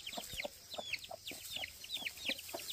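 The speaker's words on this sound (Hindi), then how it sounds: "आज मेरी कड़कनाथ मुर्गी कुड़क हुई है" A broody Kadaknath hen gives a steady run of soft, repeated clucks at a fairly even rhythm, heard close but quietly, with faint chirps from nearby Aseel chicks.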